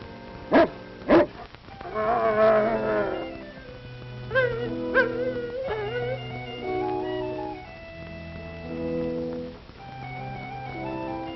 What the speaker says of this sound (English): Hugo, I'd keep my dog away from Swift Lightning if I were you.